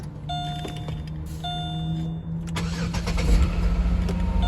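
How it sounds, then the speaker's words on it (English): A Chevrolet Malibu Maxx is started on a freezing morning around 30 degrees: chime tones sound, the starter cranks, then the engine catches and settles into a rough, loud idle nearby. "Severe cold start."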